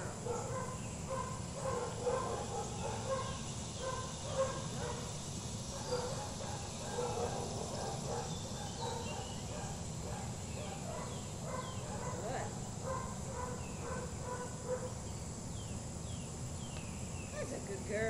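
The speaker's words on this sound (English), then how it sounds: "Good dog." Dog barks and yips come in short repeated bursts at moderate distance, mixed with bird calls and steady background hiss, while people talk and praise the animal throughout.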